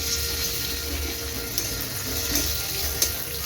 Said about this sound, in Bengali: একটু কিশমিশটা আমি ঘিয়ের মধ্যে একটু ভেজে নেব হালকা করে।